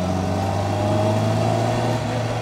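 A 1999 Reliant Robin Mk3 three-wheeler's 850 engine runs steadily and loudly up close, a smooth continuous drone with a slight rise in revs near the middle and no talking over it.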